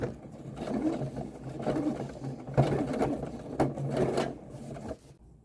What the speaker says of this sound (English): I'm going to back stitch over here.